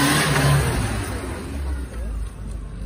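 A police motorcycle engine hums and revs at a safe-riding competition held by the Hyogo Prefectural Police, a steady close motor drone under a voice talking.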